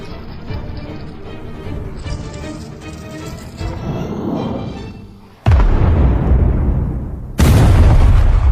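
Suicide skeletons blowing up in an animated battle, with rumbling blasts building up before two sudden, loud booms hit one after another near the end.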